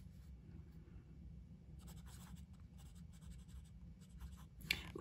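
A Moonman C1 fountain pen with a fine nib writes on paper, giving soft, faint scratching strokes in short bursts over a low background hum.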